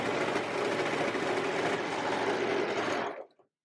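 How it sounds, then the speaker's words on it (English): A sewing machine stitches a dress in one steady, fast, whirring run for about three seconds, then stops abruptly into silence. "I'm just going to trim that off and sew it to the end."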